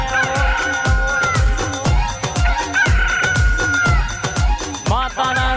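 A rooster crows as a sound effect within a devotional song, its call rising over steady rhythmic drumming and sustained instrumental music that carry loudly throughout.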